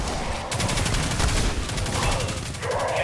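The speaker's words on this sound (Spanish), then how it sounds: "Escopetazo." Loud, rapid gunfire bursts in Destiny 2, a shotgun blast amid a dense barrage of shots filling the whole stretch at close range.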